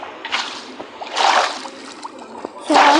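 Water placed from a bucket in Minecraft splashes and sloshes in several short bursts, the last one loudest and closest, with people talking between them.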